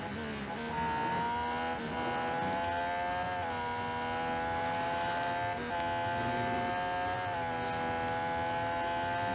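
A Ferrari race car engine in the racing game Real Racing 3 holds a steady, high-revving buzz with several gear-shift dips and swells, continuous and alone throughout.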